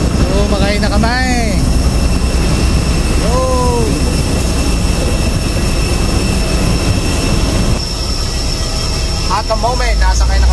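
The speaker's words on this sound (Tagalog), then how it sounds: "nasakay na kami ng aeroplano" Loud, steady jet engine roar fills the cabin while passengers board an airplane on a Bohol tour, with people talking over the drone and a brief shift in the engine tone partway through.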